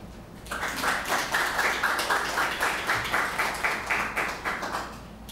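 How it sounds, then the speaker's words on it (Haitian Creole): A crowd claps steadily for a young political scientist at a university event, dense applause swelling in and holding evenly at a fairly loud level, with no voices over it. "je vous demande d'applaudir"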